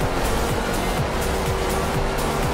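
A rally car engine in the Forza Horizon 2 racing game, without a free-flow exhaust, drones steadily and loudly with a continuous hum and repeating low pulses.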